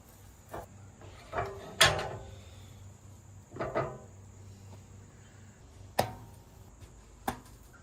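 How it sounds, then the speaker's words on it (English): TMG heated tortilla press being closed, heard as several sharp clacks and creaks spaced a few seconds apart, close and fairly loud in a quiet kitchen with a steady hum beneath. "So right in the middle it goes, close it till it squeaks."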